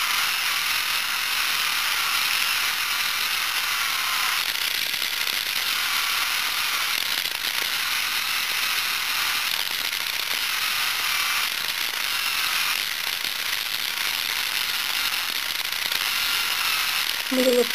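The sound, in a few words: electric pedicure tool filing skin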